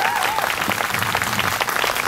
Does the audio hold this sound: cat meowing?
no